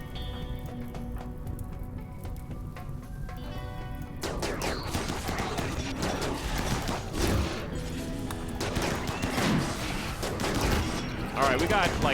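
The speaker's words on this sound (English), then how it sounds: "I'm seeing charge rifles doing some work." Charge rifles fire in a RimWorld video game battle, with dense crackling volleys and crashes layered over game music, and a voice talks over them.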